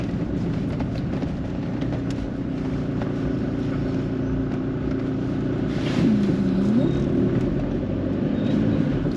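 Car driving on winding mountain roads near Shimla, a steady droning engine and road rumble heard from inside the cabin, with a brief rise in engine pitch partway through.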